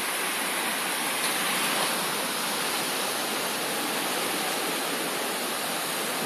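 A flooded river running high at Stewarton allotments rushes loudly and continuously, a dense unbroken roar with no voices over it.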